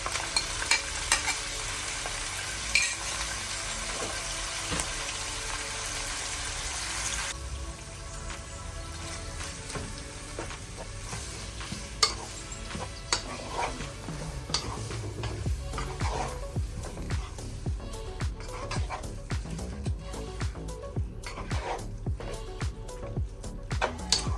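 Minced meat sizzles steadily in a pan while being stirred, with scraping clicks and crackles over the dense frying hiss. The pan is close and fairly loud throughout, and no voices can be heard.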